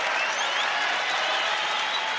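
A crowd applauds at a college wrestling championship, steady dense clapping filling the arena at moderate loudness from start to finish.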